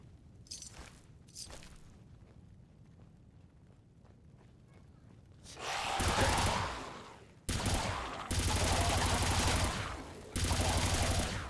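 A laser shotgun fired in Fallout 4: after a quiet stretch with a few soft thumps, loud bursts of crackling gunfire break out in several long blasts, each cutting off abruptly.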